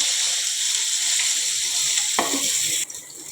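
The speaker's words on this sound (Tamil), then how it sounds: "சட்டி காஞ்சிருச்சு நம்ம எண்ணெய் ஊற்றிக்கலாம் ஊற்றிக்கலாம் ஆனியன் போட்டுக்கலாம்" Onions frying in hot oil in a pan for egg rice, a loud continuous close sizzle with a brief stir noise, then the hiss drops slightly near the end, no talking.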